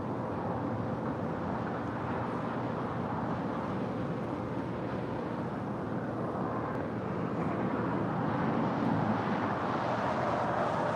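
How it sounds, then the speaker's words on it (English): Air France Boeing 777-300ER jetliner arriving at LAX runway 24 right, a steady broad engine roar that holds evenly throughout at moderate distance, with no talk. "Air France Flight 66 coming in from Paris, and that 777-300ER is the next arrival at 24 right."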